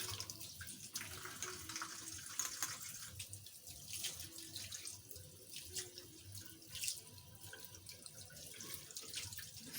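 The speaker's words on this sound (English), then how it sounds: "I'm using cold water, so just soak it thoroughly" Cold water runs from a tap into a sink to soak a curly wig, a faint continuous splashing flow with small irregular spatters, heard alone.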